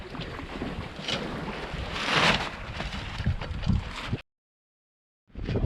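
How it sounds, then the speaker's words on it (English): A steady roar of a sailing yacht's engines mixed with rushing, splashing water as the bow cuts through the Atlantic, with wind buffeting the microphone; it briefly drops out. "You can hear the roar of the engines and the bow breaking the sea."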